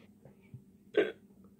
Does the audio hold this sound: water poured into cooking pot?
no